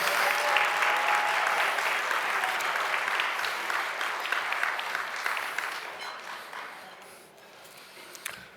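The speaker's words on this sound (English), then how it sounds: "So can we give another round of applause?" Sustained audience applause at a live show, loud and dense with many hands clapping together, gradually thinning and fading toward the end.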